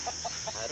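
Chickens and a rooster in a village yard, a few short soft clucks spaced evenly over a brief moment, faint and somewhat distant.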